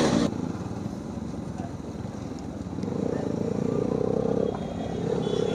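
A Hero motorcycle revs hard during a wheelie attempt on a Sundarban road ride, its engine drone loud and steady, swelling midway and easing off near the end.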